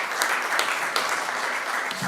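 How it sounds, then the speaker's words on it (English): Audience applause at a jewelry industry trade symposium, a steady wash of clapping from a roomful of people, even in loudness from start to finish. "Can we give a big round of applause to our dear MC for today?"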